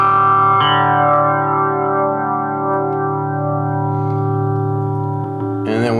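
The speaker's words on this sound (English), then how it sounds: "there's only one, you know, like flanger setting on here" A flanger effect on a Fender Champion 20 guitar amp colors a held guitar chord, a loud, steady swirling tone ringing for several seconds before a brief bright strum near the end.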